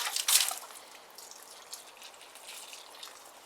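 Water is poured onto freshly planted cucumber pots in a polytunnel, a short splash at the start followed by faint trickling and dripping as it soaks into the soil.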